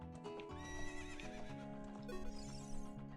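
In the Ocarina of Time video game, a horse whinnies loudly with a rising and falling neigh while hooves clip-clop in a quick rhythm beneath it, with a synthesized chime at the end.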